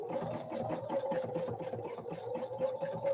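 A Husqvarna Viking 690Q sewing machine stitches a quilt block in a steady, fast rhythmic whir of needle strokes, running continuously at moderate volume with no voices.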